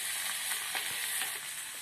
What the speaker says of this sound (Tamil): தக்காளி வதங்கி வரட்டும்.